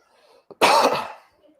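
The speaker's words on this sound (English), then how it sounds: "that was not a corona cough, that was just a cough" One short, sharp cough, close and loud, after a faint throat sound, in an otherwise quiet room.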